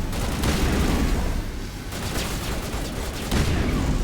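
Mass Effect gunfire in a steady loud barrage of rapid shots and booms, continuous throughout with no pause.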